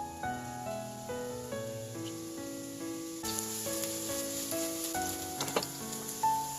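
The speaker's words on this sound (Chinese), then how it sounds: "放入杏鲍菇进行煎制。" King oyster mushrooms fry in hot oil in a heated frying pan, giving a continuous sizzle that swells partway through, with a few sharp crackles along the way.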